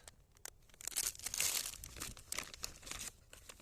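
A packet from a Ukrainian dry ration is torn open, with continuous close crinkling and rustling of plastic wrapping that swells in the middle, without any voices.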